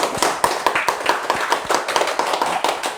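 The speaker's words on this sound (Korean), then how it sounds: "이 아버지한테 격려의 박수 한번 해주세요" Audience clapping of encouragement at a lecture, a brisk run of separate hand claps in quick, slightly uneven rhythm, close and fairly loud, with no talking.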